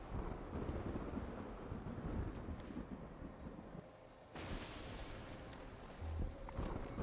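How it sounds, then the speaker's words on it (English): In a co-op video game, a thunderstorm with lightning rumbles under steady rain hiss, with low booming swells and a sudden sharp crackle partway through, with no talk over it. "Whoa, okay, that lightning can actually hit you."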